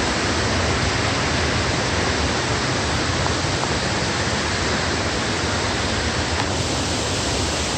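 Twin Falls at Rock Island State Park in Sparta, Tennessee pours in a steady, loud, unbroken roar of rushing water, heard close with no pauses.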